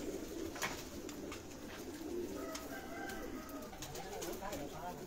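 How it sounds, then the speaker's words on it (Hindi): Rooftop pigeons, kept by a pigeon fancier, coo softly and steadily at a distance under faint background noise, with a few brief wing flutters or clicks. "ये परवाजी कबूतर है"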